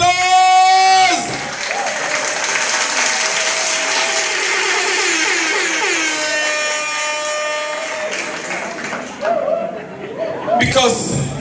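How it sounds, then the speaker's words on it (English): Crowd applause at an 80th birthday celebration in Los Angeles rises under a loud voice and musical tones, carrying on as a steady clapping wash with some chuckles before it tapers off near the end. "Los Angeles, let's give Jesus another round of applause!"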